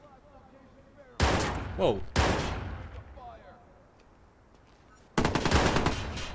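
Loud bursts of gunfire in the video game Watch Dogs at the Brandon Docks, coming in three sharp volleys with quieter gaps between, and a voice briefly reacting.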